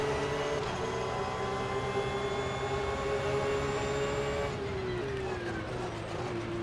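A race car engine in the rFactor 2 racing sim screams at high revs, its pitch holding and then dropping as the car slows, loud and continuous with no talk over it.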